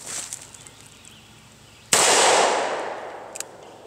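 A .357 Magnum revolver fires once during cowboy action shooting at steel targets. After faint handling noises, one sharp, loud report comes with a long decaying ring, followed by a small click.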